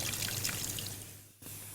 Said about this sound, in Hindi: थोड़ा सा पानी शामिल करूँगी इसमें और ये जो इमली भीगी हुई है इसमें भी आप थोड़ा सा पानी शामिल कर दें